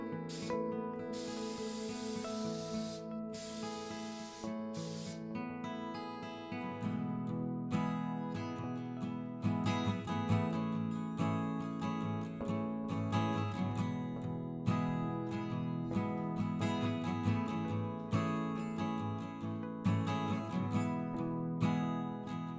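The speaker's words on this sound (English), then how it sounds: "I will be spraying 3 full coats" Hissing bursts of a spray gun applying polyurethane finish coats to mid-century modern chairs, repeated in passes, under steady background music.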